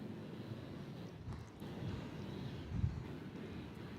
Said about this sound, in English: 2 777s and a Dreamliner starting the show.